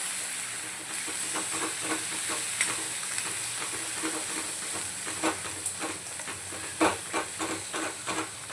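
A ground paste of red chilli, coriander, onion, poppy seed and coconut fries in hot oil for mutton paya, giving a continuous bright sizzle and hiss with repeated soft stirring scrapes, close and unbroken by speech.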